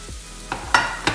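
Coriander stalks are tossed into a pan of frying chicken chow mein, a soft steady sizzle punctuated by three quick stirring scrapes.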